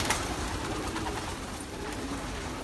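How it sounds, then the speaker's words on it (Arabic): Pigeons coo softly in breeding lofts amid a busy, noisy background, their low calls blending into a constant rustling din. "هسا احنا بالأبراج اللي مكان التفريخ، تفريخ الحمام"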